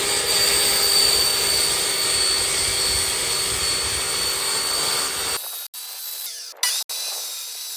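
A table saw runs loud and continuous while cutting PVC rectangular downpipe, a dense whining roar that cuts off abruptly, followed by a few faint knocks and handling sounds in near silence.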